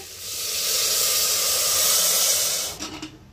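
Water poured into a pressure cooker holding moong and masoor dal with rice, turmeric and red chilli; a steady, fairly loud rushing hiss that lasts about three seconds and then stops abruptly.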